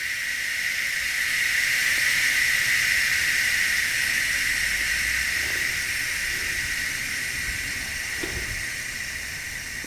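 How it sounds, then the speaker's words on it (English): Compressed air bleeds steadily out of an Etnyre distributor air oiler, a continuous hiss holding at even loudness for the whole stretch, with a few faint knocks underneath and no talking. "So once all the air is discharged"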